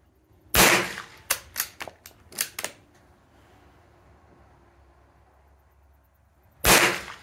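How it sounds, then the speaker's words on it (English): A Ruger American .22LR rifle with a Diamondback Tactical scope fires outdoors, one loud crack, then a quick string of sharper reports, a long pause, and a final loud shot. "press the trigger gently, the gun goes bang"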